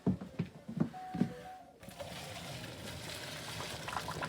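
Cooked pasta poured into a strainer in a sink, a few soft knocks followed by a steady hissing rush of water draining through, fairly faint and close.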